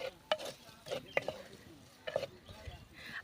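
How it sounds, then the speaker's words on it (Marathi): A spoon scrapes and stirs masala in a pan over low heat, with intermittent clinks over a soft background sizzle; quiet and close, with no talking. "मंद आचेवरतीच मसाला चांगला परतून घ्यायचा"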